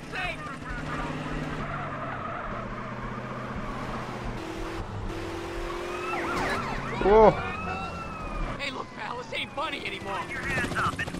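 Wailing police sirens rise and fall over a steady engine drone, with a brief screech of skidding tires midway and game-like effects throughout, from a police chase in the video game GTA San Andreas.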